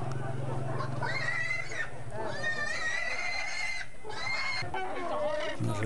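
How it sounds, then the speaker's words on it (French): A pig being carried off on a motorbike at a Vietnamese market squeals in loud, shrill, drawn-out cries, several in a row with brief gaps, over steady traffic and crowd noise. "Le cochon, de toute évidence, il n'a pas envie d'y aller"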